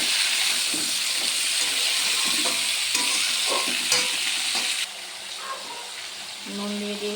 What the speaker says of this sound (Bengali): সবজিগুলো ঢেলে দেবো। এই যে ঢেলে দিয়েছি, ভালো করে সব কিছু কষিয়ে নেব।